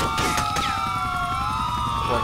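Police car siren in GTA IV, a loud continuous wailing tone with overlapping sirens sweeping up and down, near and steady across the clip.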